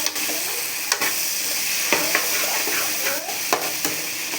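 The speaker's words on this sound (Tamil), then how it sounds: "நல்லா வதக்கிக்கணும் பாவக்காயை, அப்போ தான் கசப்பு இருக்காது." Bitter gourd sautés in a pan for a Tamil-style kuzhambu, a steady close sizzle and crackle of frying under occasional scraping stirs of a spatula, with no speech.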